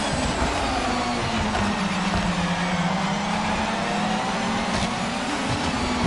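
GT500 race cars, a Honda chasing a Toyota, roar around the track with loud, sustained engine drone whose pitch slides up and down as they pass, alone without talk.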